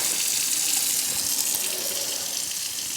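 Hot water pours steadily into a pot of Anasazi beans, a loud, continuous close-up gush with no voices.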